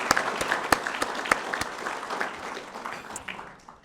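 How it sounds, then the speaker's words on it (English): An audience at an awards ceremony claps steadily, the applause fairly close and gradually thinning out toward the end. "Let's give them a round of applause."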